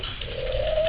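A female zebra dove (perkutut) gives a single short, soft coo, close and low against faint background noise.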